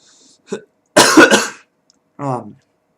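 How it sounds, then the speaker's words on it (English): A few separate coughs, one harsh and heavy burst in the middle, close and loud, with short silences in between. "excuse me for my coughing"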